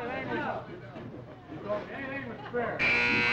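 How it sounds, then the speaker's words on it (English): People chatter in the background at a televised bowling match, then a loud, harsh electronic buzzer blares suddenly and holds steady. "Gotta wait for the buzzer, Bob."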